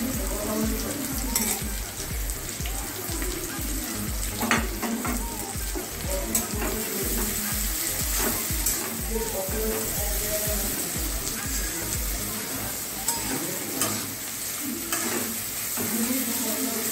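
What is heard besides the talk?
onions frying in a pan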